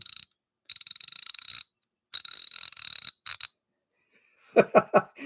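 A 60-tooth Koken ratchet clicks in several fast, fine-toothed bursts close by, with short pauses between runs, ending in a few louder knocks as the tool is handled.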